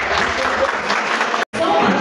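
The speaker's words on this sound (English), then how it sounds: "Give yourselves a round of applause, please." A graduation audience at a moving-up ceremony gives a loud, dense round of applause, broken briefly by a cut before resuming, with voices mixed into the clapping.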